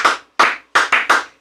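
Six distinct hand claps from a small group of men toasting with White Claws, sharp and close, spaced unevenly with short pauses between them, no talking over them.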